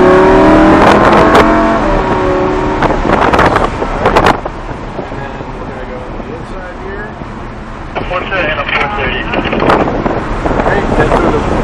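A Lamborghini Huracan LP610-4 accelerates uphill on the Summit Point Motorsports Park circuit, its engine roaring loudly from inside the cabin amid heavy wind buffeting while a person talks over it.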